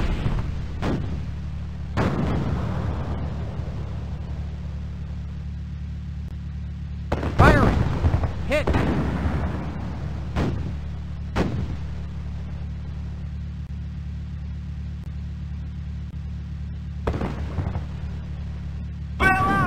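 StuG assault gun cannon fire in the Across the Rhine wargame, with several sharp booming shots spaced irregularly over a steady low engine rumble, plus brief radio-style voice callouts.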